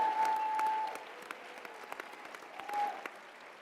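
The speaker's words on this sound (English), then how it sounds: "give a round of applause to our CPAC staff" Brief audience applause at the CPAC 2020 conference, honoring the staff. It is moderate and fairly distant, with scattered claps that thin out and then swell again briefly near the end.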